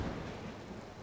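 Rain falls steadily during a recording session, a soft continuous patter and hiss at moderate level with no talk over it.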